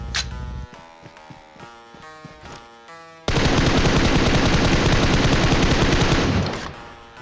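Rapid automatic gunfire from PUBG Mobile rattles loud and close in one sustained burst of about three seconds, following a stretch of tonal game music and effects, then cuts off abruptly.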